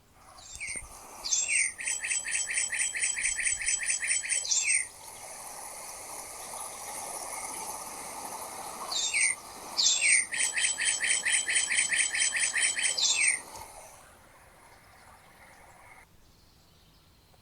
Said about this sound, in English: one of the most pleasant sounding birds might be a cardinal. And it sounds a little something like this.